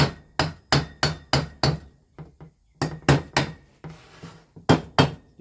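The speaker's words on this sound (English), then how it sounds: "So I'm going to knock on these cooling fins." A small hammer taps on the cylinder cooling fins of a Neo-Tec F380 chainsaw, making sharp metallic knocks in quick close runs of several strikes with brief pauses, some lighter taps between.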